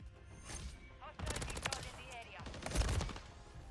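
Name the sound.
Renetti SMG gunfire in video game Call of Duty MW3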